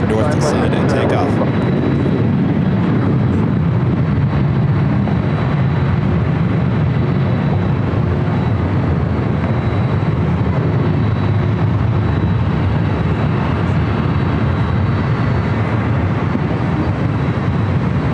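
Jet airliners, including an Air France A350-900, take off at LAX with a broad, steady, loud roar, heavy at the low end, under ongoing talk.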